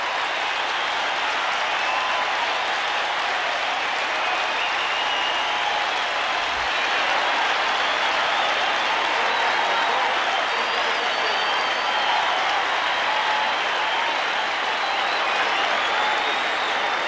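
Stadium crowd at a Philadelphia Eagles at Buffalo Bills NFL game roaring and applauding after a rushing touchdown, a loud, dense, sustained wash of cheering that never lets up.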